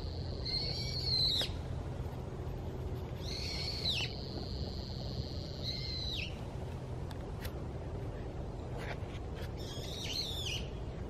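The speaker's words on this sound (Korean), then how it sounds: "이름 모를 산새 소리가 갈 길을 막습니다" Calls of an unidentified mountain bird near Jeondeungsa temple on Ganghwa Island, a few clear high whistled phrases in separate bursts over a steady low rumble of background noise.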